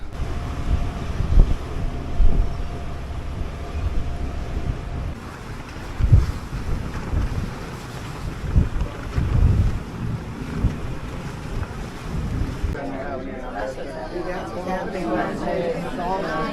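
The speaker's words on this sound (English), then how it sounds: "the strong winds are slowing us down" Gusty wind buffets the microphone in uneven low rumbles on the Norwegian Dawn cruise ship, with people talking nearby and a steady background hum.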